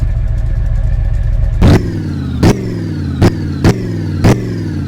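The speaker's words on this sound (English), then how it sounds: "Okay, now does it run? Oh hey, it runs. And it sounds like complete ass." A rough-running car engine, sounding badly out of tune, idles with a low clattering rumble and is blipped five times with the throttle, each rev a short sharp roar that quickly drops back, heard close and alone.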